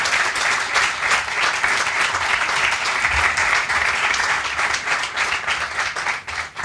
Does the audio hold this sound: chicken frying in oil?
no